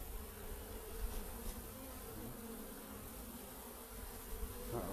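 Bees swarm and buzz steadily around an opened hive, a dense insect drone holding near and even throughout, with no talking.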